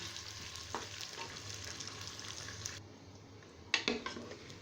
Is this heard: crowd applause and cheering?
no